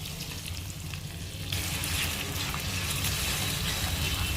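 Ground spice paste sizzles steadily in a pan as it is sautéed for a winter-vegetable khichdi. The frying noise is close and continuous and swells slightly partway through, with no talking.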